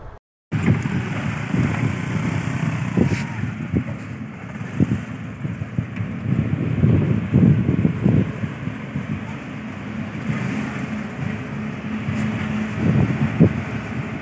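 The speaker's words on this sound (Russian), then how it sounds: "Таким образом происходит переправа на пароме из Керима до форта Тирокля и обратно." A river ferry carrying a motorbike crosses from Querim to Tiracol Fort in Goa, with a steady engine rumble, water wash and wind buffeting the microphone, loud and continuous throughout.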